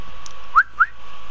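Two short rising whistles from enemies in The Last of Us Part II, spaced a fraction of a second apart over a steady game hum, mid-distance and fairly clear.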